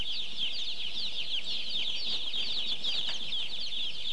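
A mass of young broiler chickens inside a broiler house, a dense, continuous chorus of high-pitched cheeping from many birds at once, steady and close, with faint rustling beneath.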